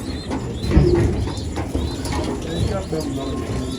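Pigeons coo softly again and again inside a loft, with someone speaking over low mechanical rattling in the background.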